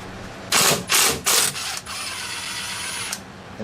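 A hand ratchet working loose a 13 mm bolt on the brake hose bracket of a Chevy Silverado K2500 pickup: three loud, close bursts of clicking pawl, then a steadier, quieter run of clicks trailing off.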